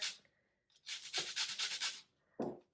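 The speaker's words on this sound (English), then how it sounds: "I'm just taking a microplane here and grating the zest directly in" Orange zest is grated on a microplane in quick, close rasping strokes, a short burst of scraping followed by a single brief scrape, with no talking.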